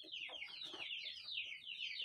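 Chickens, including local village birds, clucking while being fed, a faint continuous chatter of several birds with quick overlapping clucks at some distance, no talk.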